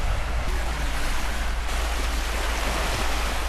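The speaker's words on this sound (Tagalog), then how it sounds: "Ganda rin yung dagat dito." Ocean surf at Kalanggaman Island, Leyte, as a continuous broad wash of breaking waves blended with gusty wind rumbling on the microphone, fairly loud and steady throughout.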